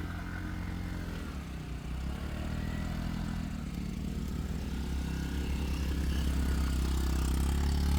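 Motorbike engine labouring uphill near Kulekhani Dam in Nepal, a steady low drone that grows louder and rougher toward the end, with no talk over it.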